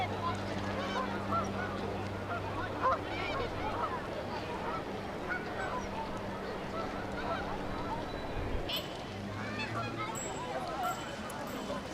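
Canada geese honk repeatedly on a park lake, with loud overlapping calls over steady outdoor ambience and faint background babble.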